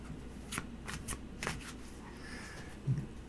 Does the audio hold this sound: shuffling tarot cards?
yes